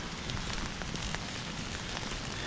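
Steady rain pours down at an open-air Amtrak station platform at Old Orchard Beach, Maine, a dense, even hiss of drops that continues unbroken without any talking.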